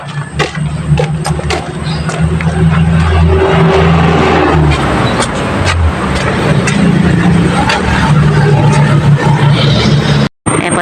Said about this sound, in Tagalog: nandito kami ni James sa tabing kalsada